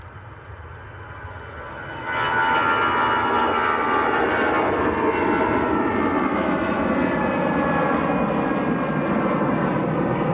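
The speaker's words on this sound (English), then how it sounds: "Next departure is going to be Aer Lingus," An Aer Lingus airliner begins its takeoff roll at Manchester Airport, the engine noise stepping up sharply after a quieter start into a sustained, fairly distant roar with rising whine, no talk.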